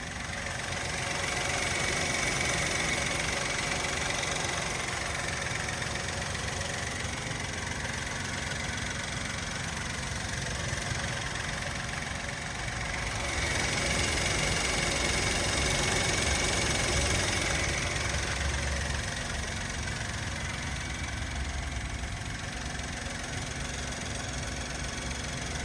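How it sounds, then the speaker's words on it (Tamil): A 2010 Maruti Suzuki A-Star petrol hatchback idles steadily, its engine giving a continuous even hum with a faint knocking texture, recorded close and fairly loud with no talking. "வண்டியோட இன்ஜின் சவுண்டை அந்த ஃபோனை வச்சு ரெக்கார்ட் பண்ணி காட்டுறேன்."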